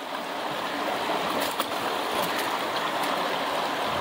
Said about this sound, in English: modify the wing dam to get more water flowing through the sluice